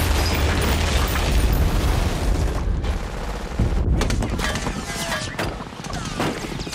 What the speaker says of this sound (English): The constant firing of the German M1 machine guns dominate the scene